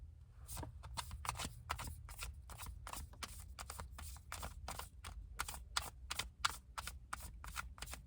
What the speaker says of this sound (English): I will shuffle thoroughly.